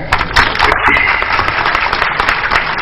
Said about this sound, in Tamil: அதுக்கும் நல்ல கரகோஷம் கொடுங்க.